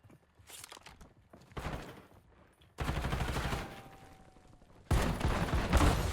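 Shotgun blasts in the video game Call of Duty Warzone, a sequence of loud, sharp gunfire bursts during a match, growing denser and louder toward the end.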